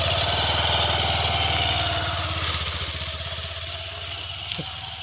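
A motorcycle engine chugs close by with a rapid pulsing beat while the rider struggles to get it into gear, the throb easing and growing a little quieter toward the end.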